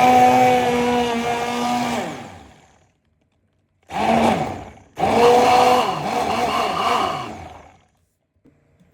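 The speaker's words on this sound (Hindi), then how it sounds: "अब इनको हम एक ब्लेंडर में पीस लेंगे।" An electric blender grinds peeled tomatoes in loud motor bursts: one long run winding down, a pause, a short burst, then a longer pulse that roars close and steady before cutting to silence.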